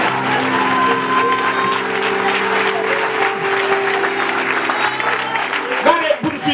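A church congregation at Sunday worship applauds in a dense, sustained wash of clapping, with voices and a held tone running underneath throughout.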